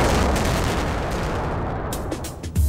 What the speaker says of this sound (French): le sautage est déclenché.